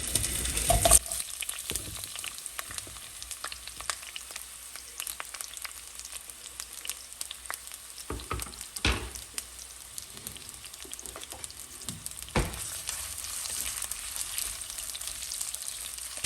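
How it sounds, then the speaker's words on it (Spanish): Half an onion sliced into half-moons frying in a saucepan, a steady soft sizzle throughout with a few sharper crackles and spikes, fairly quiet and close, no voices. "En una cacerola voy a agregar media cebolla en medias lunas."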